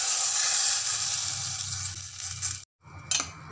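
Hot oil tempered with mustard seeds and a little turmeric is poured over raw mango chutney, giving a loud close hiss that slowly fades, cuts out briefly, then returns faintly.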